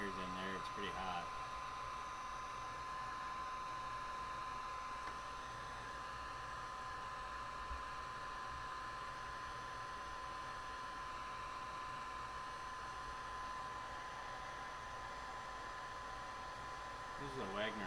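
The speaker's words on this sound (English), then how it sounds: "This is a Wagner heat gun for stripping paint basically." A Wagner heat gun used for stripping paint runs steadily and close, giving a continuous loud blowing whir with a fixed tonal whine throughout.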